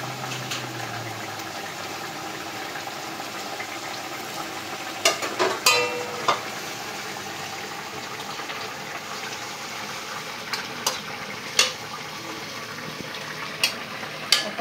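Fish curry simmers and sizzles in a pan in a village kitchen as pieces of fried fish are laid in one by one, a steady frying hiss broken by occasional clinks and taps.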